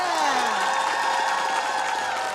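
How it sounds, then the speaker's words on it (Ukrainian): A studio audience applauds and cheers loudly for an aerial gymnastics act on a Ukrainian talent show, a steady wash of crowd noise with sustained music tones underneath. "ваші оплески гучніше!"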